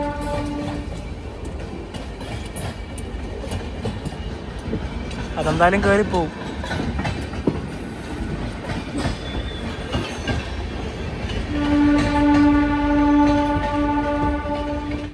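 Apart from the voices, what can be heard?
Yoga Express train arriving at Mehsana junction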